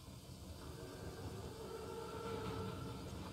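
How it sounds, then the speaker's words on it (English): Armored train in Call of Duty WW2 rumbling past as a steady, dense rolling roar that swells slightly louder toward the end, continuous and unbroken with no talk. "Train's right on time"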